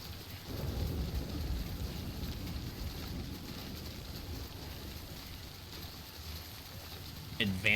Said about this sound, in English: Advanced timefall.